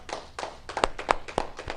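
Scattered, uneven hand claps from a small audience at a talk, a few sharp louder claps standing out over a soft patter, brief and fairly close.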